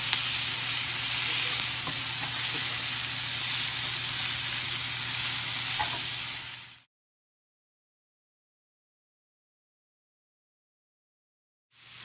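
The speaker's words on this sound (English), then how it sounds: "We have been cooking this on medium heat for 5 to 7 minutes." Warm relish sizzling and frying in a pan on medium heat, a steady close hiss with faint crackles lasting several seconds before cutting to silence.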